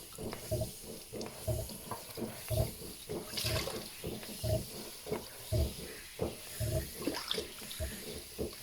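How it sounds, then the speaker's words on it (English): Tap water runs in a sink while a pottery mixing stick and a kidney are rinsed off during slip casting, giving steady close splashing with repeated rhythmic scrubbing and knocks and no talk. "I'm just going to give my mixing stick and kidney a quick wash."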